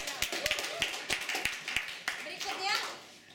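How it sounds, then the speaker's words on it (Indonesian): A short burst of scattered hand claps at a student association candidate debate, a small group clapping unevenly for a few seconds, with a bit of chatter mixed in toward the end. "Kita tepuk tangan dulu untuk Daniel."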